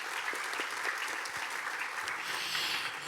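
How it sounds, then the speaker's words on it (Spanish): Moderate applause from an audience, a steady patter of clapping at a distance, fairly quiet and even throughout. "un aplauso para él"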